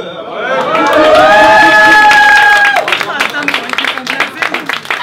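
An audience at a French rap battle claps and cheers in a steady burst following a held vocal tone, the applause filling the room loudly, then settling into scattered claps.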